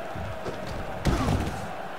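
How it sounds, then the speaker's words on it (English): A wrestler is slammed down in the Wrestling Empire video game, giving one heavy, sharp thud about halfway through over a steady background hum. "He just slammed Bob down"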